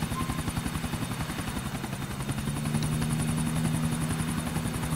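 A helicopter in the video game GTA IV flies with a loud, close, steady rotor chop, its rapid thumping beat continuing throughout with no speech.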